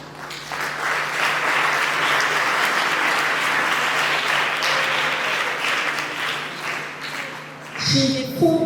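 Audience applause at a community engagement event on climate change adaptation in Calabar, a loud, sustained wash of many hands clapping that holds steady for about eight seconds before tapering off.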